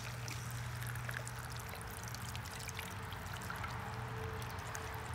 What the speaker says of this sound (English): So I'll continue gently pouring water over this.